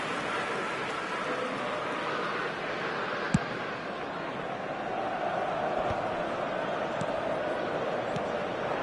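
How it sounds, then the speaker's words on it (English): Stadium crowd noise in the eFootball video game, a dense steady roar of spectators held at an even level throughout, with a few faint sharp thuds and muffled commentary-like voice underneath. "Now the crowd are demanding that they just finish this off."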